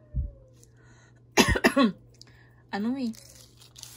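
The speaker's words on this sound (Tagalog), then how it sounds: "May ubo pa ako" A harsh, close cough in a quick burst of two or three hacks, followed by a short vocal sound, with a faint tap beforehand.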